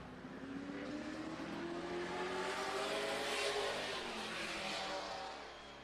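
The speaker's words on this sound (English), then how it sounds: "On the racetrack in the 1K. Coming around to complete lap number 1." A race car on the Madera Speedway oval completes a qualifying lap. Its engine note swells as it approaches, peaks loud and near at mid-clip, then fades slightly as it drives on.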